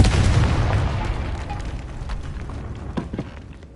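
Confringo spell explosion in the Hogwarts Legacy video game: a heavy booming blast that rumbles and slowly fades, followed by scattered smaller pops and crackles.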